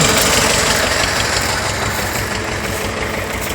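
A loud tractor engine runs steadily and close by while ploughing in December, a continuous rough, rumbling drone with no pauses or voices.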